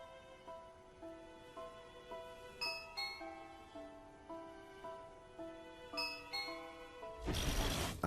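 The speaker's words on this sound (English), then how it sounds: "I had connected the doorbell to my gaming station" A doorbell wired to a gaming station chimes in a repeating melodic pattern of bright tones, moderately faint, ending with a burst of noise.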